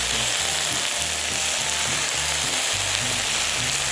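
Spring cabbage and sausages sauté in a mustard sauce over high heat, giving a steady, loud sizzle and crackle with occasional stirring scrapes throughout.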